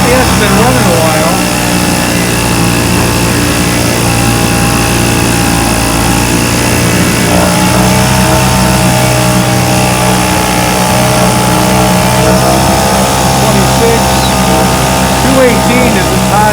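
A 1971 Johnson Mate 2 hp air-cooled outboard motor runs steadily and loudly throughout, a constant droning engine note with someone talking over it.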